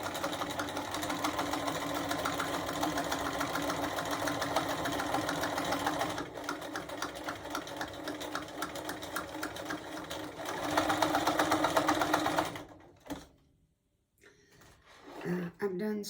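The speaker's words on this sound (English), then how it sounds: "I've done so much sewing, my machine is loud." A loud domestic sewing machine stitching a quilted gift basket, a steady mechanical whir with rapid needle clatter running for about twelve seconds, then stopping, followed by a brief quieter sound.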